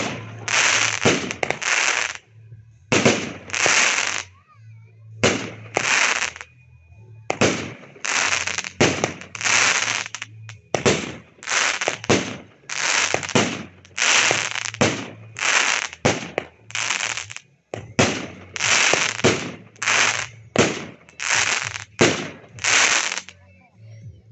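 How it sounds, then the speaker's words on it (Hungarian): A Kis Bruti 25 mm firework cake fires its 16 shots as loud, sharp booms in irregular clusters, each pop ringing out across an open outdoor display, with no talking over them. "Na lássuk az egyik Kis Brutit"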